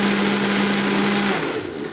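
A blender runs steadily on seeds with a loud, constant whirring roar and a whining motor hum that drops slightly as it starts to ease off near the end.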